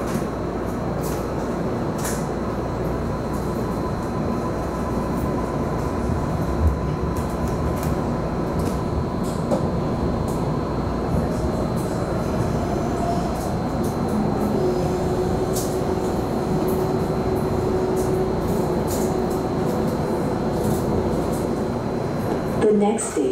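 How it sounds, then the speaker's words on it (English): A MARTA Red Line metro train on the airport-bound run pulls away from a station, its steady loud interior rumble and hum rising slowly with faint whining tones as it gathers speed, a voice speaking over it. "Please hold on, train's about to move"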